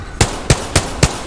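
Gunfire in the video game Apex Legends. Four loud, sharp shots ring out close by at an even pace, each with a punchy low thump, and no one talks over them.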